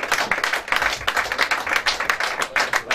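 A live stage audience applauds a performer at a radio show's 100th-episode event, a dense, steady crowd clapping of many hands lasting throughout, fairly close and loud with no talk over it.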